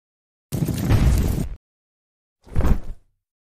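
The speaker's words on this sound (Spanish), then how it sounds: "Super explosión de pedos." Two blasts of a noisy, rumbling cartoon fart explosion effect, the first about a second long, the second shorter, separated by silence.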